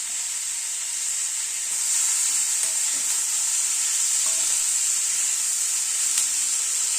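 Sliced onion fries with nigella seeds, fenugreek and garlic on a medium gas flame, a bright continuous sizzle that swells after a couple of seconds, with faint scraping stirs now and then.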